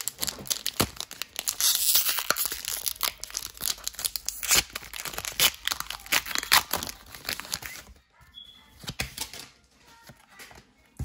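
Foil Pokémon Shining Fates booster pack being torn and crinkled open, a steady run of close, loud crackling rips and crumples that thin out into softer, sparser rustling near the end.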